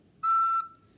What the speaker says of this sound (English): If you're getting a squeaky sound like this